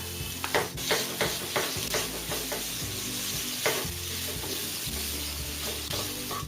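Chena (paneer) for paneer bhurji stirred in a hot pan, with a steady sizzle under repeated scraping strokes of a spoon against the metal, close and fairly quiet.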